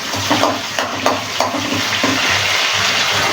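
Fenugreek seeds crackle and sizzle steadily in hot oil for a bitter gourd tamarind curry, with brief stirring scrapes and small pops breaking through the close, continuous frying.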